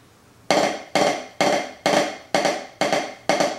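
Seven crisp, evenly spaced drum strokes of a diddle rudiment ring out alone at a quick, steady pace, each with a sharp attack and short decay.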